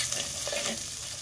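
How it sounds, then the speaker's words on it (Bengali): Spices with turmeric powder being stirred and fried in a clay pot, a steady close sizzle with soft scraping of stirring throughout, no talk. "এটাকে ভালো করে নেড়ে চেড়ে কষিয়ে নিতে হবে।"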